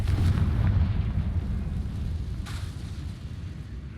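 A Confringo blasting spell explodes in Hogwarts Legacy, a dense rumbling low boom that fills the clip with a sustained heavy roar and a second sharper burst midway, with no talking.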